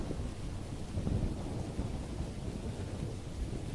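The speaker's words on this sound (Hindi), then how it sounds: "लेकिन बारिश इतनी तेज हो जाती है" Heavy rain pours in a steady, dense roar with a low rumble of thunder swelling underneath, a cartoon-style storm effect that stays loud and continuous throughout.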